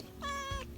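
A cat gives a single short, clear meow close by, with nothing else audible around it.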